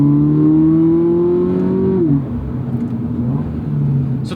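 A Toyota GR86 with a torque converter automatic gearbox pulls hard as its engine rises steadily in pitch, then drops cleanly into the next gear and climbs again, a loud continuous drone heard from inside the car.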